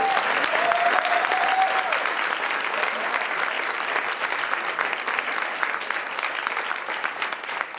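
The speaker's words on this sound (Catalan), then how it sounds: "Un gran aplaudiment per a aquest públic tan especial." A theatre audience at an amateur drama performance gives a long, steady round of applause, dense and even from start to finish, with a faint voice briefly audible in the opening moments.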